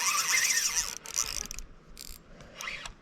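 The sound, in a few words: fishing reel drag clicking while playing a large fish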